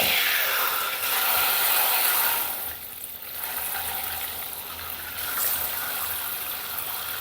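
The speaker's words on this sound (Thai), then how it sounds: "แล้วก็ใส่น้ำลงไป" Water gushes steadily into a bowl of fresh vegetables for soaking, a loud continuous pour that softens briefly midway before swelling again, with no voices over it.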